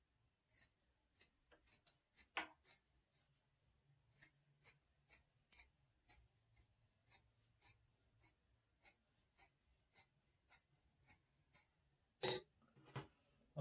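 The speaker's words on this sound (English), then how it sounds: "So now I'm going to cut my fabric." Scissors cutting fabric for a face mask, a long, steady series of quiet, crisp snips in an even rhythm, close up and faint, with one louder knock near the end and no talking.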